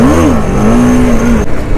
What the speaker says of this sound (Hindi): करण विली कर दे